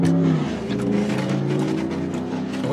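Cars racing on a nearby road, a loud, continuous engine roar with revving that rises and falls over a few seconds, close and dominant with no talk.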